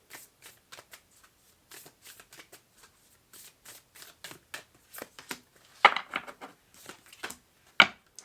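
Tarot cards being shuffled by hand before a card is drawn, a run of soft riffling flicks and taps at a steady pace, louder bursts near the end, with no talking.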